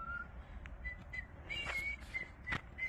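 A fisherman at Maple Lake whistles a series of short, thin, high notes in a quiet outdoor setting, heard faintly with soft ambient rumble.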